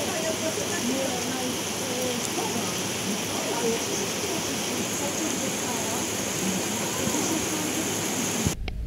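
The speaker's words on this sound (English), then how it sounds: "And it starts raining, I guess, again" Steady rain falls with a dense, even hiss, continuous and close throughout, with faint voices murmuring underneath.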